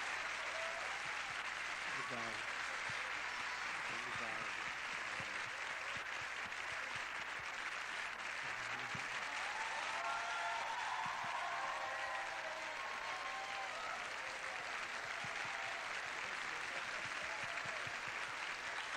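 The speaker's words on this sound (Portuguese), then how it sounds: "o que vale mesmo é a junção das mãos e o ruído, que é o aplauso" Sustained, dense applause from a television studio audience fills the whole stretch without a break, with a few spoken words heard under it.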